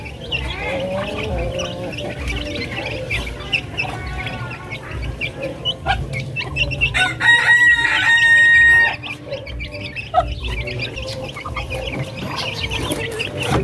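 Chicks and breeder chickens on a Filipino poultry farm cluck and peep at feeding time, a busy continuous flock chorus close by with a rooster-like call rising briefly in the middle.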